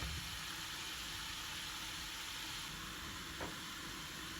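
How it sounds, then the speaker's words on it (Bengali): Vegetable bhaji cooks in a covered pan with a steady, even hiss and soft sizzle throughout, constant and moderately loud, with no talk. "ঢাকনা দিয়ে আমি 5 থেকে 7 মিনিট রান্না করে নিব, তাহলেই হয়ে যাবে আমার ভাজিটা"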